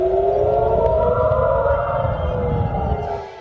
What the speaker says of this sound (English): Air raid sirens rang out in central and northern parts of Israel.